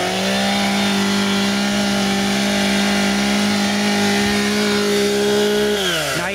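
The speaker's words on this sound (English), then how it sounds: "We got the Echo CS 600 chainsaws" Echo CS 600 chainsaws run at a lumberjack championship in St. Stephen, New Brunswick, holding a loud, sustained high-rev whine close by. At the end the engine pitch drops sharply.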